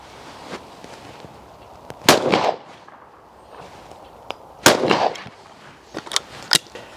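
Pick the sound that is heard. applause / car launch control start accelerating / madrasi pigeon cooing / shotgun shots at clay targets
shotgun shots at clay targets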